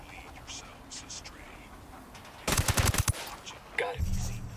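A quick rattling volley of gunshots from Ghost Recon Wildlands cracks out in a tight burst of about half a second. It breaks into otherwise quiet game audio, with soft voices before and after.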